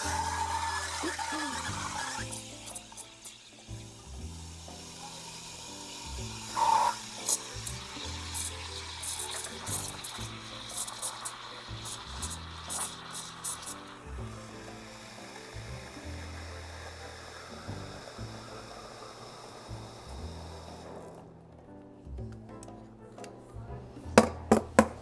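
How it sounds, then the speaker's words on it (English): An espresso machine's steam wand steams oat milk with a steady hiss and gurgle under café clatter and thuds, then the hiss cuts off near the end, leaving scattered knocks. "I'm going to be steaming our oat milk"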